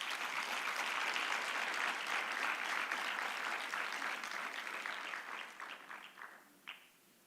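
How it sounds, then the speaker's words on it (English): Audience applause at the SATVETSA Conference 2025, a steady round of clapping from a room full of people that thins out and fades over the last couple of seconds, with a few scattered claps at the end. "Let's give them another round of applause."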